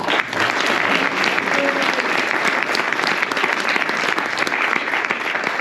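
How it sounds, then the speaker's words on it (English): Loud, dense applause from a crowd fills the whole stretch, steady and unbroken, with faint voices mixed in. "Round of applause again for Natalie."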